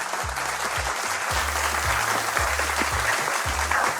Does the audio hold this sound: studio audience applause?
yes